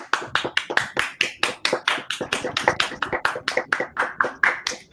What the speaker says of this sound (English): Are they applauding out of their windows?